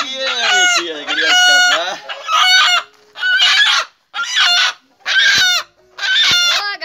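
A hen clucks and squawks loudly up close in a run of agitated, repeated calls separated by short pauses, as she is chased and caught.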